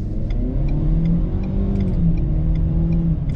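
A 2021 Ford Bronco Sport accelerates gently from inside the cabin, its mid-pitched engine note rising steadily over a constant low road rumble, with faint ticking of the turn signal repeating throughout.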